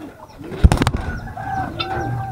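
Racing pigeons at a loft make a sudden burst of wing flapping close by, followed by soft cooing calls against faint background noise.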